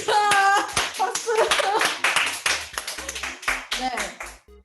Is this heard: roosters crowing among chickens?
no